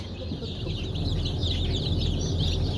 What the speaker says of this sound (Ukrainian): Курчатка вилупилися, гарненькі.